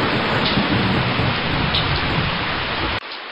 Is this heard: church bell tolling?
no